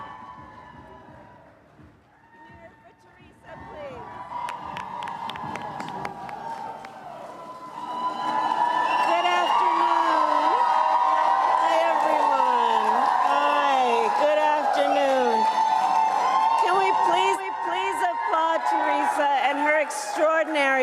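Crowd in Douglas, Arizona cheering and whooping for Vice President Kamala Harris at the podium, building from scattered noise to a loud sustained roar with wavering shouted voices carrying over it.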